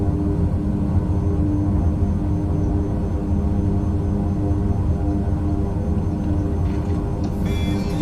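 Small propeller airplane taxiing to park near a house, its engine a steady, loud, low droning hum running throughout with no break.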